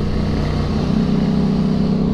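A Can-Am Renegade 1000 XXC four-wheeler engine roars loud and steady at close range while riding over bumps and ruts, a continuous low throbbing drone with no pauses.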